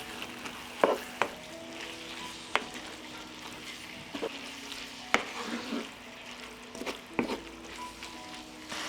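Meat fries with spices and sweet ground paprika in a pan, giving a soft, continuous sizzle broken by intermittent clinks and scrapes of a spoon stirring.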